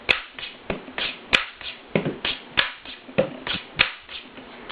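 A pen beats out a basic rhythm of hits and slices on a hard surface, giving crisp, close taps and swipes in a steady repeating groove with no voices.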